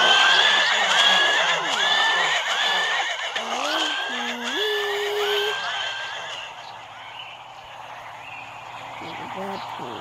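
A white horse neighing in a video game, several loud whinnies in quick succession near the start, fading into quieter ambient game sounds, with a person talking over it.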